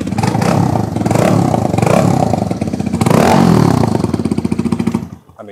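A 125cc motorcycle engine revs loud and close in repeated rising bursts, with a rough, barking exhaust note and some mechanical clatter, before it cuts off abruptly near the end.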